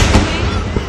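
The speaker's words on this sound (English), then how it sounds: "Fireworks are a good representation of light travels faster than sound." Fireworks bursting outdoors, a few deep booms and crackling pops over about a second with a steady rumble between them, fairly loud and close.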